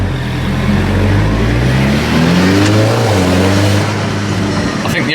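The engine of a Volkswagen Golf R Mk6 with a sports catalytic converter revs up and settles into a raspy, rumbling idle, its throaty, somewhat farty exhaust loud and close throughout.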